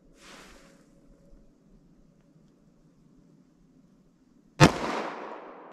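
A semi-automatic pistol fires a single Winchester Silver Tip 175 grain round, one sharp, loud crack followed by a short decaying echo after a stretch of quiet outdoor hum.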